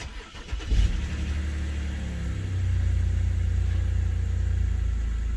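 A BMW E90 engine cranks briefly and catches, then settles into a steady, loud, close idle with a low rumble that firms up midway, no voices over it.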